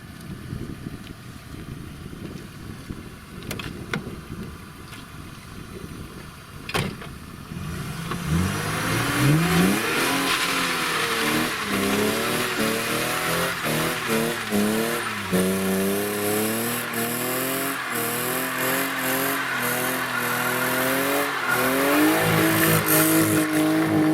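A BMW E30 does a burnout: the engine revs hard in rising and falling waves while the tires squeal and skid continuously, loud and close, with no talking.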